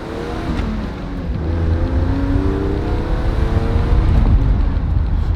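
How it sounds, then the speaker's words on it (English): A heavy Mercedes convertible with its top down pulls hard on a hot Texas road. The engine note climbs through a revving acceleration with rising harmonics, and a broad rumble of tire and road noise builds underneath. No voices are heard. "But we'll see what it can still do. Still burn rubber."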